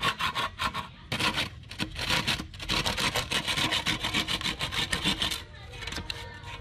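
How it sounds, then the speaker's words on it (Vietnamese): Hand sawing of wood while building a treehouse in a coconut tree: rapid rhythmic rasping strokes, close and loud, in bursts with short pauses, and some talking nearby. "giờ mình sẽ cưa ngay đây nha bạn"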